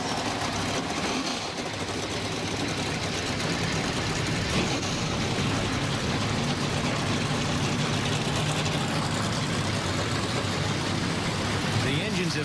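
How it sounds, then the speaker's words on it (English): A field of NASCAR Xfinity Series race cars at the 2019 Rinnai 250 start their engines and idle in a loud, dense, continuous rumble, with a commentator talking over it. "The engines have fired."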